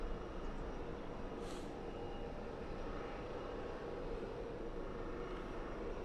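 An Eastern Airways ATR turboprop airliner at London Southend Airport produces a steady, distant broadband engine roar that stays faint and even throughout.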